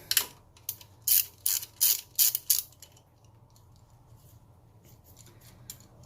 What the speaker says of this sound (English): Gonna remove this 10mm bolt here.